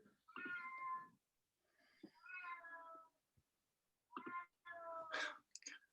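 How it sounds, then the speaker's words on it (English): A vocal house cat meows repeatedly in the background during an online conference session: four drawn-out, rising and falling meows separated by short pauses, fairly clear and unaccompanied by talk. "Can you hear my cat in the background?"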